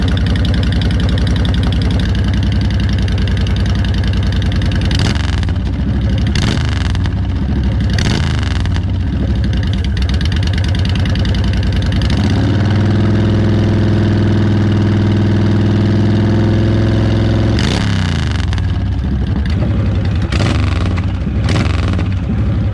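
A Fury car engine starts from cold and idles loudly up close with a deep, rumbling steady throb. Partway through, it swells into a stronger rev for several seconds before settling back to idle.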